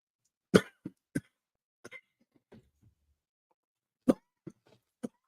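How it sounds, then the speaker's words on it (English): A person coughing in several sharp, separate bursts, a cluster of hacks followed by a pause and then a few more, close and fairly quiet in an otherwise silent room. "The cough try to take me out."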